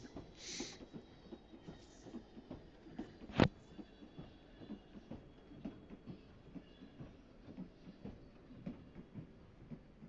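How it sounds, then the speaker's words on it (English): A train runs along rails in a factory-building video game, with a faint, steady rhythmic clickety-clack of wheels, one sharp metallic click near the middle, and no talking. "it will stop this train if I'm in the other train coming towards the intersection"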